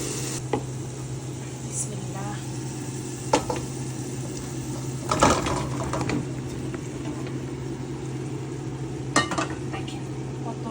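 Chunks of bottle gourd are tipped into a pan of well-fried spiced masala, giving a few soft thuds and a rustling clatter over a steady low kitchen hum and faint background sizzle.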